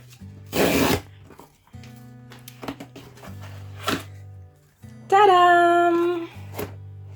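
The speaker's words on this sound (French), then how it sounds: "We are going to unbox this together." Cardboard and paper rustling, tearing and sliding while a package is unboxed, in bursts with pauses and a steady low hum underneath, no talking.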